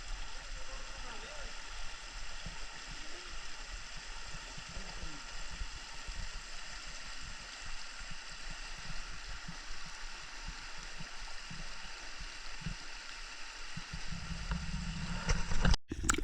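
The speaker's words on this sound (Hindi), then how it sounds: "जब ट्रैक के साथ साथ एक ठंडे पानी का चश्मा भी बहना शुरू हो जाता है, ये शफाफ और ठंडा पानी, इसकी आवाज़" A cold, clear glacier-fed mountain stream runs beside a trekking path near Fairy Meadows below Nanga Parbat, giving a steady, moderately close gurgling rush of water that holds even throughout, with a brief louder burst near the end.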